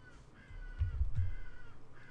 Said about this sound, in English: I got a crazy crow outside my window right now.